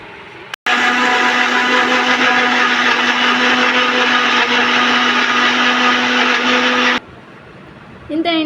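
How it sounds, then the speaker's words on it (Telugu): A kitchen mixer grinder blends roasted tomatoes and green chillies into chutney, a loud, steady whirring drone that runs for about six seconds after a brief click, then cuts off, leaving faint background noise. "మనం మిక్సీకి కూడా వేసేసాం కదండి"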